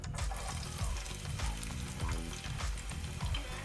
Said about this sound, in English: We keep it on high flame, and then we throw in the onions